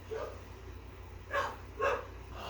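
Two short dog barks at a distance, evenly spaced about half a second apart, over a steady low background hum, with no voices present.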